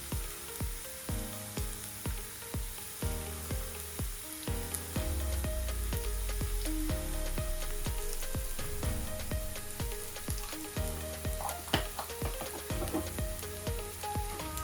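Crushed ginger and garlic sauté in hot oil, giving a dense, steady crackling sizzle throughout, partly covered by tonal background music and no voices.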